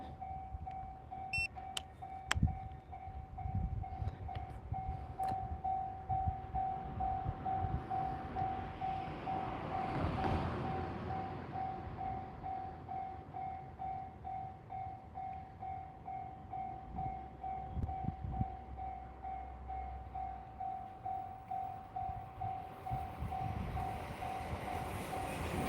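A train rolls past a back garden in Takamatsu, its wheels clattering in a steady rhythmic beat that builds and holds nearby, with a sustained tonal whine running through the pass and no talk.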